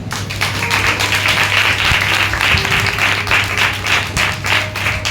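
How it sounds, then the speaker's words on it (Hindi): Rhythmic, hearty clapping from a congregation at a Sunday church service, loud and continuous, with a steady low hum beneath it. "प्रभु के लिए जोरदार तालियां।"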